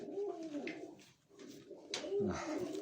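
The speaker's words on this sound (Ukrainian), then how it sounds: "Двухгодична голубка і молодий голуб." A two-year-old hen pigeon and a young cock pigeon coo in soft, low, throaty rolls, two drawn-out phrases separated by a brief pause, close by with faint rustling around them.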